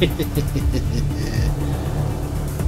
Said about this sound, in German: Los mit Triebwerk, Vollgas.